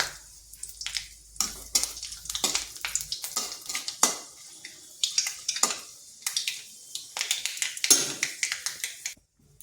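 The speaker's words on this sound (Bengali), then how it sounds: "ফোড়নে দিচ্ছি পাঁচ ফোড়ন তেজপাতা একটা শুকনো লঙ্কা দু টুকরো দারচিনি আর দুটো এলাচ" Panch phoron, a bay leaf, a dried chilli, cinnamon pieces and cardamom pods dropped into hot oil, crackling and spitting in quick irregular bursts with spoon clatter, close and clear, no talking.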